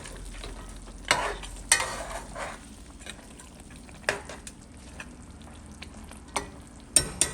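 A spoon stirs Jamaican curry goat in a pot after water is added, with scattered scraping clinks against the pot over a soft, steady simmering sizzle.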